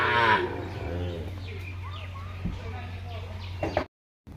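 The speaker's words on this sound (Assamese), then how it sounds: "চাওক পানীৰে গৰুবোৰ লৈ যাই আছে বেলেগ ওখ জেগাত" Cattle moo repeatedly in a nearby series of calls while being herded through floodwater to higher ground, with faint birds chirping in the background before the sound cuts off.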